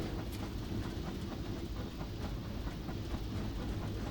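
A steam train in Disneyland Railroad Steam Simulator chugs and rattles along at an even pace while slowing to stop, wheels clacking on the rails in a steady rhythm, heard from close by.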